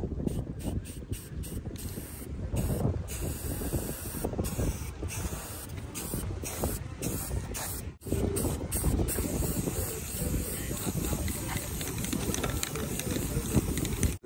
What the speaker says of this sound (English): I spray the other side.